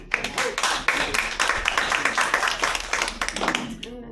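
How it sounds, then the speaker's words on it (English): An audience applauds at a Parkinson's book signing and presentation, a short burst of scattered, fairly soft clapping from a small crowd that tapers off at the end. "So, we applaud you."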